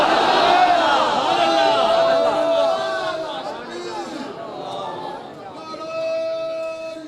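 A large crowd at a religious Mehfil-e-Milad gathering chants slogans in loud unison, voices rising and falling in long sustained calls that echo through the hall, then fading as a single voice carries on.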